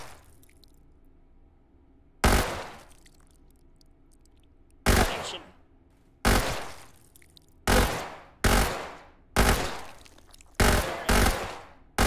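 Gunfire from the MeatleStorm gun in the VR shooter Hot Dogs, Horseshoes & Hand Grenades: loud, close bursts repeat at uneven intervals, about eight sharp blasts over twelve seconds with quiet gaps between them.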